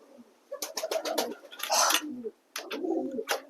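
Check satin and red English magpie pigeons coo repeatedly at close range, with soft rising and falling calls in several bursts and a short pause midway.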